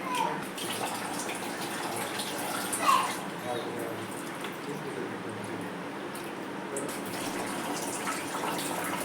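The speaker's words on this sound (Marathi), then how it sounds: "आता या चिप्स आपण स्वच्छ पाण्यात तीन चार वेळा पाण्यात धुवून घेऊ" Thick-cut potato chips for wafers being rinsed in clean water, with a steady swishing, sloshing wash sound and a brief louder splash near the start, continuing evenly throughout at close range.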